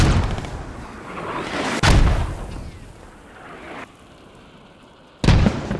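Mortar shells burst in the Squad video game, two heavy booming impacts about three seconds apart, each followed by a long rolling rumble that fades, with no voices.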